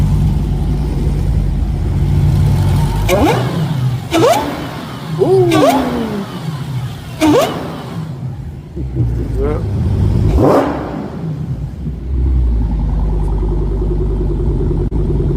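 A modern muscle car engine revs in several sharp bursts over a low idling rumble, each blip rising and falling quickly before the engine quiets, while people talk nearby and someone briefly answers.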